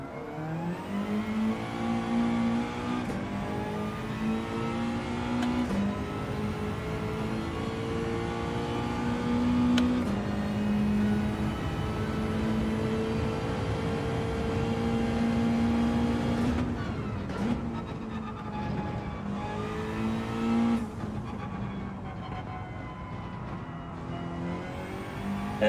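Race car in Gran Turismo 7 lapping a circuit, the engine howling loud and steady while climbing through gears, with several sharp upshifts and a lift-off for braking partway through, no voices over it.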